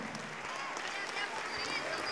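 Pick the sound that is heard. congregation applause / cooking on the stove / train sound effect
congregation applause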